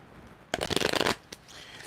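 A deck of cards is riffle-shuffled in one quick, crisp burst lasting about half a second, followed by a single short tap of the cards. The sound is close and clear against a quiet room.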